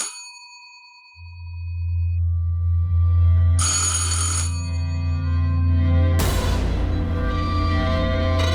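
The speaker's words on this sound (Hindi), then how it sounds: "फोन नहीं उठा रही।" A telephone bell rings insistently, a bright metallic trill sounding alone and fairly loud over a steady low hum, with a sharper burst near the end.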